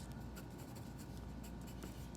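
A colored pencil scratches across paper while drawing a tree, a faint, continuous dry scraping with small strokes and no voices.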